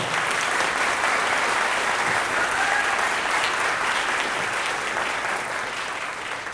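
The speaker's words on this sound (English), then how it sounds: "Let's have one more round of applause for our concert orchestra." Audience applause for a school concert orchestra at a winter concert, a continuous wash of clapping from a full hall, steady and then slowly fading near the end.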